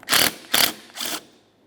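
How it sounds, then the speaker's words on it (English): Ratchet wrench backing off the 17mm mounting nut on the window or wiper transmission of a 1994-1997 Honda Accord: three quick, loud, close ratcheting strokes, each a bright buzzing rasp, the last slightly softer and longer. "Let's remove that 17mm mounting nut."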